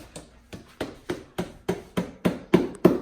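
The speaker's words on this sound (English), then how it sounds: "Anchor, hammer." Nine sharp, evenly spaced hammer blows drive a wall anchor for a curtain rod into a wall. Each strike rings close and solid, and the hits grow slightly louder toward the end, with no talking.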